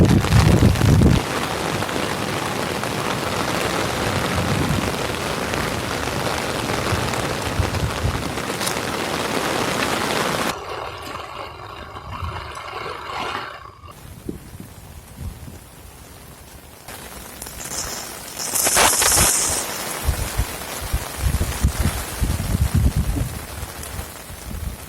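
Rain falling during a beach trek in Gokarna, steady broadband hiss for about ten seconds, then softer, patchier rain and wind noise with a few handling bumps.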